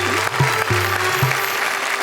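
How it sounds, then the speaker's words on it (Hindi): An audience at a poetry and music gathering applauds, a dense steady clatter of clapping lasting throughout, with a sustained low tonal hum and a few soft thumps beneath it. "जरा तालियां बजाइए"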